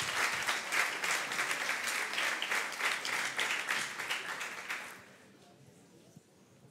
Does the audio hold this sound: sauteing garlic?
no